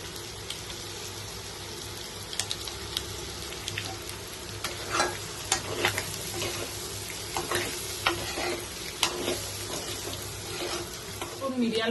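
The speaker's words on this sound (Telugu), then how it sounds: "ఒక 1 మినిట్ ఎగ్ వైట్ ని ఫ్రై చేసుకోవాలి." Egg white fries in a pan with a steady close sizzle, sharp crackles and pops scattered throughout, plus occasional scraping from stirring.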